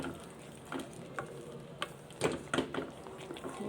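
Paneer butter masala is stirred in a pan, a faint sizzle underneath scattered scraping and clinking strokes of the spoon, quiet and close with no talk.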